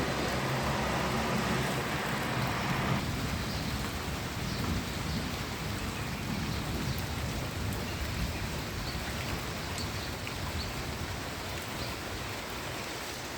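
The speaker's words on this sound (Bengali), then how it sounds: "খুব নীরব বৃষ্টি হচ্ছে কোনো হাওয়া নেই দমকা হাওয়া নেই" Steady, gentle rain falling without wind, a soft continuous hiss with a few faint drips, no voices.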